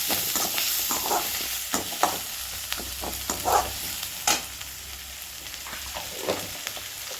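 Onion and curry leaves sizzle in hot oil for a podi idly, with a steady crackling hiss broken by a few sharp spatters and scraping stirs, loud and close with no voices.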